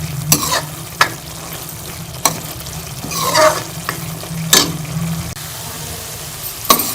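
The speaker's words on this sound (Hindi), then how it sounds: "मैं 4 से 5 मिनट जो है वो मसाले को अच्छी तरह से भून लूँगी मसाले के साथ।" Spice masala fries in oil in a pan for an egg katli dish, giving a steady close sizzle. A spoon stirs and scrapes it in sharp strokes every second or so.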